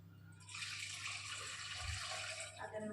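Water pours steadily into a cooking pot while sambar is being made, a continuous splashing stream that starts after a brief pause and runs on close by without any talk.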